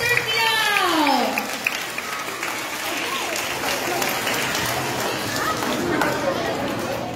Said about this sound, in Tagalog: Isang malakas na palakpak para kay Mr. Clown.